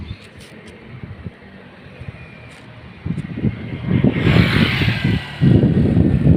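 A motorcycle engine idles quietly at first, then revs up into a loud, near, rough roar in bursts, with wind buffeting the microphone and no speech.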